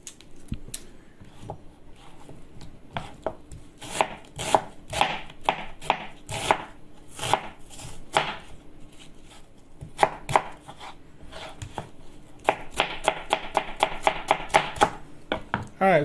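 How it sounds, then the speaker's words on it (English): A knife chopping vegetables on a board, close by, with bursts of sharp, rapid taps between irregular single cuts, and a fast even run toward the end. "cut these vegetables"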